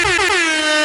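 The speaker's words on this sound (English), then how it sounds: "And the air horn is here." A single loud, sustained air horn blast, bright and brassy, sliding slightly downward in pitch as it holds for nearly a second.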